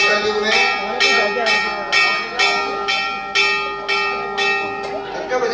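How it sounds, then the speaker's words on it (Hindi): A temple bell rings repeatedly in a steady rhythm, about once every half second to second, at a Shiva temple in Pithoragarh during a religious discourse, with a bright metallic ring over a continuous tonal background and faint voices. "बजा घंटी, हाँ एक घंटी ले हो जाएगी"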